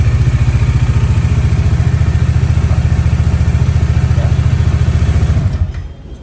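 A motorcycle engine idles with the check engine light on, suspected of a bad sensor, on a model such as an NS200, 160 FI or Dominar 400 or 250. A loud, steady rapid putter runs close up and then cuts off near the end.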